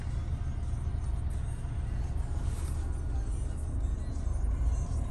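A Subaru Outback 2.5 Premium on the move gives a steady low road rumble and engine drone, constant and fairly close, with no distinct events.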